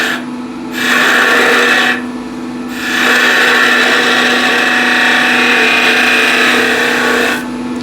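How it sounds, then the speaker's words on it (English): A skew chisel cuts a cove into a spinning wood blank on a lathe, giving a loud, rough scraping rasp in two long passes with a short quieter pause between, over a steady motor hum. "now I'll do simple cove here,"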